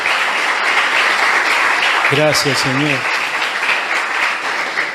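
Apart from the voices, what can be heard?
congregation applause for the Lord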